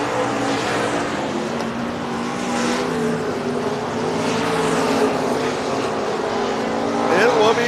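Race cars roar around the oval at Heart O' Texas Speedway, a dense, steady engine drone at close range with a brief whine near the end.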